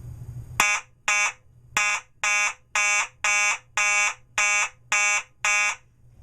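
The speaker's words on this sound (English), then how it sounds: "And then march time." A Simplex fire alarm sounds in march time: loud, evenly spaced electronic horn pulses, about ten in a row, each roughly half a second long, with nothing else heard.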